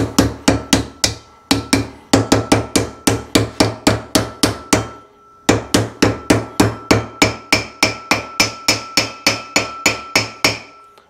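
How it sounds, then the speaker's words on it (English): A body hammer knocks a seal into an AC Delco bearing hub, giving loud, sharp metallic strikes at a steady, regular rhythm, about two per second. There is one brief pause midway, then the blows resume. "So we're gonna use a body hammer because it was the closest hammer."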